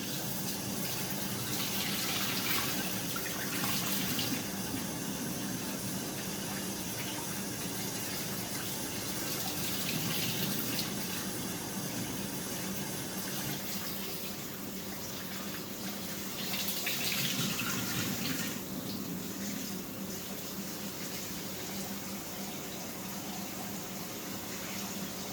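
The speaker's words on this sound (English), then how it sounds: "So you're going to rinse this 2 times, perhaps 3." Tap water runs steadily into a bowl of cut potatoes being rinsed to wash off starch for air-fried cube fries, a continuous close gushing with slight swells.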